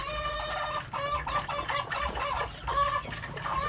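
Free-range village chickens cluck and crow continuously at close range, with overlapping hen calls, chick peeps and a rooster's cry rising above the flock, and no talking.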